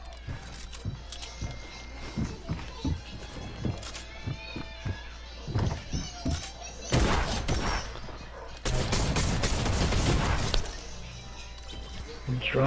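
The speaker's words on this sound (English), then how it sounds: "Drum shotgun." Drum shotgun blasts in a video game firefight, several sharp, loud bursts clustered in the back half amid shattering and crashing effects, following a stretch of scattered footsteps and clicks, with a voice talking at times.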